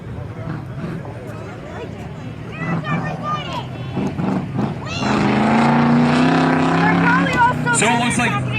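Eight-cylinder race cars roar around Valley Raceway in a feature race, engine noise building to a loud, dense drone in the second half as the field passes close, with a commentator talking over it throughout.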